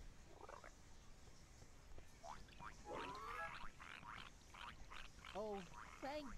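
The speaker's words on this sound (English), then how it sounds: "the baby frogs" Baby frogs in a Winnie the Pooh video game croak in a string of short, chirpy calls, starting sparse and growing busier toward the end, rising and falling in pitch over a faint background.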